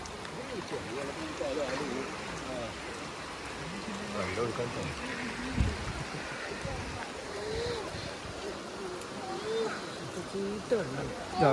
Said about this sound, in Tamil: பார்த்தாவே தெரியும் மழை தண்ணி எப்படி எந்தளவுக்கு போகுதுன்னு